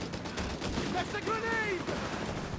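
Light artillery and gunfire sound in a Company of Heroes 3 match between the DAK and USF. Rapid, dense shots blend with brief whistling, rising tones over a busy battle din.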